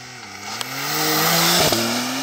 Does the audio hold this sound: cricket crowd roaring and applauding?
no